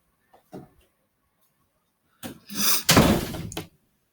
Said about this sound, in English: Close my room door when you leave out.